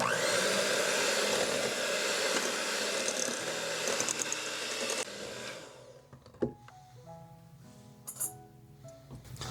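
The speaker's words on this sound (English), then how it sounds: "Now I'm just gonna beat this on medium until the mixture is fluffy." An electric mixer on medium speed beats eggs in a bowl with a loud, steady whirring drone for about six seconds, then stops, followed by light clinks and mechanical rattles.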